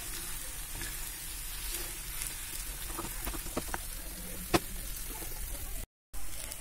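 Chopped onions frying in a pan for aloo paratha filling, giving a steady close sizzle with a few soft crackles and one brief sharp clink of a utensil.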